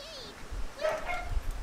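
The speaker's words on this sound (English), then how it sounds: "I apologize for the dog barks." A dog barks and yips a few times in the background at a streamer's home, faint and brief, partly under quiet talk.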